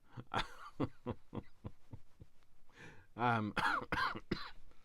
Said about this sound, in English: coughing again now